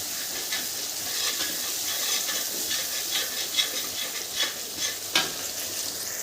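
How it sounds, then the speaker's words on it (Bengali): Chicken frying in a kadai is stirred steadily, with a continuous sizzle broken by soft scraping strokes that grow sharper toward the end, close and fairly loud. "দেখবেন কড়াই যাতে না লেগে যাবে, তার জন্য ভালো করে নাড়তে থাকবেন।"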